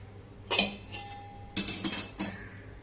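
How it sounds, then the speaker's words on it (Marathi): A metal spoon clinks against a bowl while stirring melted Dalda into maida flour for shankarpali dough, with a few bright scattered taps and scrapes separated by quiet pauses. "आता सगळा डालडा मैद्यामध्ये चांगला चमच्याने मिसळून घेतलाय"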